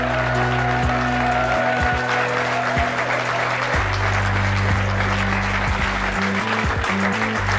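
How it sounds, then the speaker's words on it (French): A French TV talk-show studio audience claps warmly to welcome two guests, steady applause running beneath strong sustained low musical tones that shift in steps. "je vous demande d'accueillir très fort et d'applaudir chaleureusement nos deux premières invitées"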